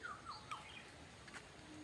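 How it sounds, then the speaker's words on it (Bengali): Small wild birds chirp and whistle in short, high bursts in the open countryside, faint and distant against a soft natural background. "তার সঙ্গে পাখিদের মধুর সুরের গান দোয়েল ফেঙে বউ কথা কও হলদেগুড়ি"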